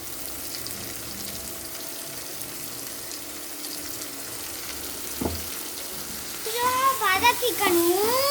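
Ground chutney paste sizzles steadily in a pan with potatoes for a simple potato curry, a continuous moderate frying hiss, with a voice speaking over the final seconds.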